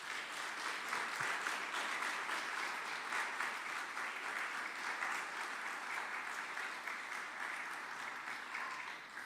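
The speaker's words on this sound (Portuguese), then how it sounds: "aplauda o Senhor Jesus." A church congregation applauds during a live worship service, giving a faint, dense, continuous patter of many hands for about nine seconds.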